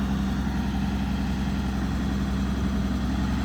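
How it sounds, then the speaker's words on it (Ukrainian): A combine harvester's V-shaped eight- or six-cylinder engine idles quietly with a steady low rumble and hum, running on without change and with no voices. "А мотор шепче. Восьмерок чи шестерочка V-образна."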